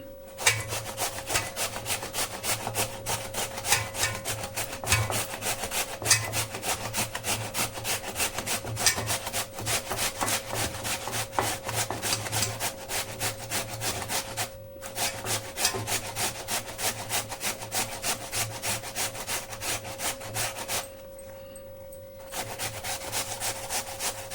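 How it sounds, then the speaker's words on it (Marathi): Peeled cucumber being grated for a Malvani-style cucumber cake, a steady rhythmic rasping of close strokes that runs almost continuously, with a short pause near the end. "हे आता आपल्याला किसून घ्यायचे आहेत पण साल जी आहे ती नाही घ्यायची"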